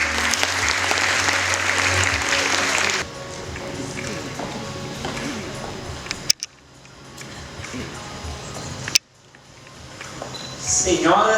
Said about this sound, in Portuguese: vamos receber com uma salva de palmas o nosso grande Werner Schunemann